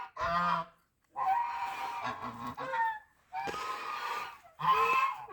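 Geese honk in several loud, close calls in spring, harsh nasal cries coming in clustered bursts with short gaps between them.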